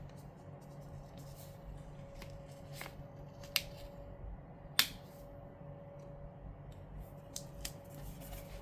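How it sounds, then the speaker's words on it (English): Scissors snip through a paper flower, cutting it in half while decorating a planner: a few sharp, quiet clicks and snips spaced out over a faint room hush, with no talking. "I'm gonna cut this one in half and use this flower right here."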